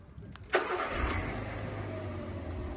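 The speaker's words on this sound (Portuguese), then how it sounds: "Agora sim eu vou ligar o carro." An electric car starts during a practical driving-licence exam in Brazil: a sharp click, then a steady low hum that continues to the end.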